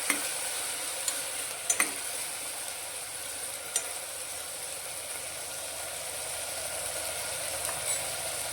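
Chopped onions and potatoes sizzle in hot tempering oil inside a pressure cooker, a steady close frying hiss throughout with a few sharp clicks of stirring, no voices.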